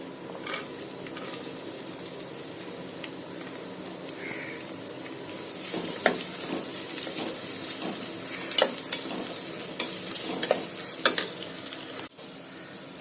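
Onions frying in oil for Chettinad chicken masala, giving a steady close sizzle broken by irregular scraping and clinking stirs against the pan, with no voices.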